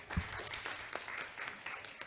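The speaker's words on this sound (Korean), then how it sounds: "박수 한번 주세요." Faint, scattered clapping from an audience at the high school final of a national science inquiry survival competition, a thin wash of claps with a few sharper hits, heard from a distance.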